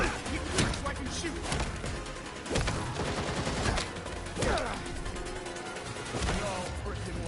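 Rapid bursts of gunfire from the video game Gotham Knights, with repeated loud shots and impacts crackling across the whole stretch over a busy game mix.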